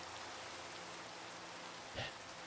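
Steady rain falling in the video game Minecraft, a constant broadband hiss of drops with a brief louder splash near the end, heard alone without talk.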